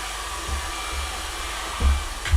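A handheld hair dryer blows steadily and close while drying a painted miniature tank, with a few low thumps of handling under the constant whooshing drone.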